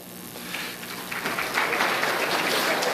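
Audience applause at a basketball hall of fame induction ceremony in Manitoba, a soft, steady wash of clapping that swells slightly and holds, heard from within the hall.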